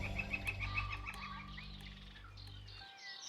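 Birds calling at Malheur National Wildlife Refuge in Oregon's sagebrush country, with several faint chirps and calls scattered over a low steady hum that cuts out near the end, leaving the calls quieter and alone.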